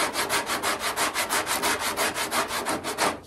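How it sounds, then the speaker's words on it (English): A sanding block scrapes body filler on a 1968 Firebird body line in steady back-and-forth strokes, about a dozen rhythmic rasping passes, close and loud with no talking. "I keep filing this away, kind of in an X pattern,"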